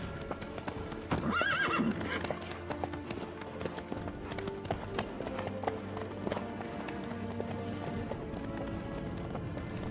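Horse hooves clip-clop steadily in The Witcher 3, and a sharp whinny rises near the start. The hoofbeats continue at a trotting pace over a busy game soundscape.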